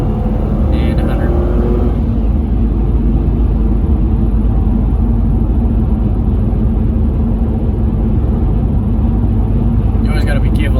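A Ford Falcon accelerates at full throttle on the road, its engine roaring loud and close in a continuous heavy rumble from inside the car.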